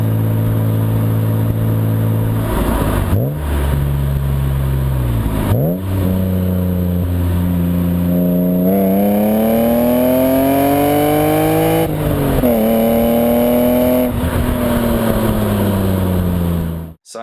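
A loud BMW E36 M3's 3-liter S50 six-cylinder engine revs repeatedly, pitch climbing and falling with each throttle blip, then holding a long rising rev before cutting off.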